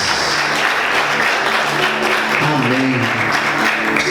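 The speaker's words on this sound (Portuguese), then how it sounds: "Vamos aplaudir Jesus bem forte, queridos." Church congregation applauding loudly and continuously, a dense wash of clapping with voices and tonal sounds mixed in underneath.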